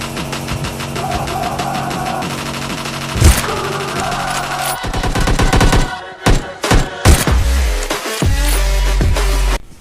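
Dense video game gunfire from PUBG Lite, with rapid bursts of shots, rattling automatic fire and sharp single cracks over a busy, loud game soundtrack, ending in a sustained low rumble.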